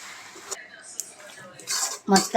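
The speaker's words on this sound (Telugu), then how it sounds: "యాడ్ చేసుకున్న తర్వాత అది మంచిగా మిక్స్ చేయాలి" Pasta being stirred and mixed with its ingredients in a pan at home, heard as a few soft scrapes and then sharper metallic clinks and scrapes of a utensil against the pan, fairly close and alone.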